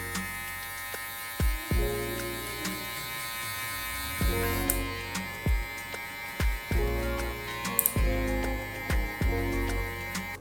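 Electric hair clippers fitted with a one guard buzz in steady bursts while cutting curly hair during a high taper, with a constant motor hum broken by short clicks and pauses.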